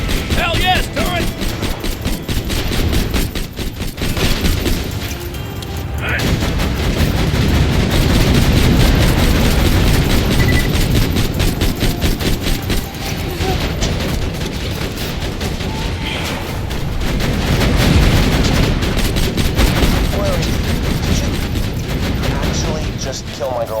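Turret fire in the video game Borderlands 2: sustained rapid bursts of gunfire and heavy blasts, loud and dense, swelling in two waves with brief lulls between, mixed with game sound and some voice.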